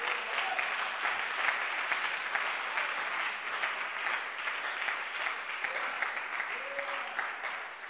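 A church congregation applauds to acclaim the Lord, with steady, dense clapping sustained throughout and a few faint voices mixed into the crowd.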